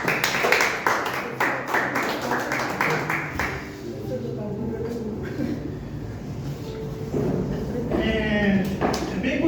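Members of a church congregation clap in a burst of handclaps for roughly the first three and a half seconds, then the clapping gives way to someone speaking over the room's background murmur.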